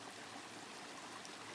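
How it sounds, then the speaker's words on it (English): Powderface Creek gurgling and trickling in a quiet Kananaskis forest, a steady, close, even rush of running water with no voices. "I love that gurgle. I think it's my favorite sound in nature."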